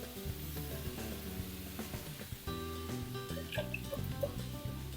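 Food seasoned with turmeric and salt sizzles faintly in a pan as it is stirred, with a soft continuous crackle broken by light scraping and occasional small pops.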